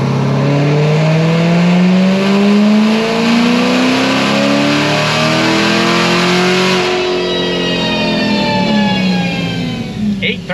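A Corvette C7 Z06 with an RPM Stage 5 build, boosted on pump gas and methanol, revs hard on a dyno pull to about 5,500 rpm. The engine note climbs loud and steady with rising harmonics and then tapers off.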